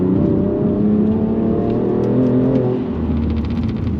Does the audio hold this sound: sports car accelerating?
yes